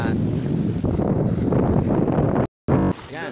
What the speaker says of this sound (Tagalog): super lakas ng hangin.